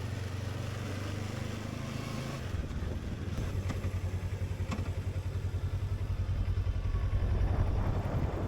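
A motorcycle engine idling at low revs with a steady, close, rhythmic chug before parking, the pulse growing slightly stronger toward the end, with faint clicks and clatter nearby.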